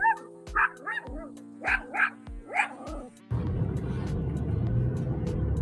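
A small dog barks about six times in quick, sharp yaps nearby, then a steady low rumble like a passing vehicle takes over.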